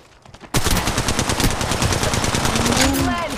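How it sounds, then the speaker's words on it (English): Rapid automatic gunfire in the mobile battle-royale game Apex Legends Mobile erupts suddenly after a brief quiet moment and continues as a loud, dense stream of shots to the end. "Shots fired at me."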